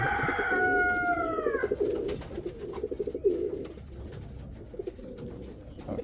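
Pigeons in a breeding loft coo in soft, repeated low throaty rolls close by, with another bird's brief whistling call at the start and faint background rustle.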